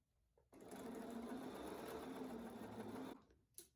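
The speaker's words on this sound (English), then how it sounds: "as I stitch, I'll be taking out the pins" A sewing machine stitches binding onto a quilt in one steady, continuous run of close, even mechanical whirring that lasts about two and a half seconds, then stops, followed by a brief soft handling sound.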